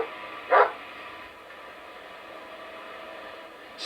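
A dog gives a single short bark up close, over a steady hiss of background noise, with no talking.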